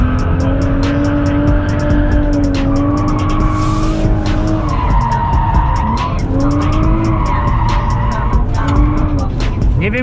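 A stock BMW F31 335i automatic wagon with a welded differential and springs lowered 40 mm drifts, its engine roaring continuously as the tires squeal in long rising and falling howls, loud and close throughout.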